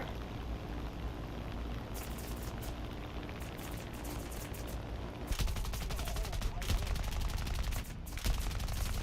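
Gunfire in War Thunder aimed at the player's plane at high altitude: steady rattling bursts over a constant engine drone, growing heavier about halfway through, with one sharp crack near the end.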